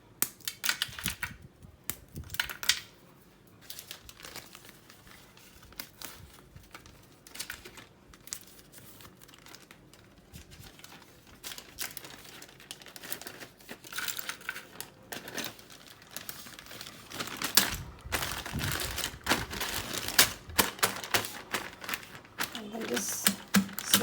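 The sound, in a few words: crushing caramel cashew crunch inside a Ziploc bag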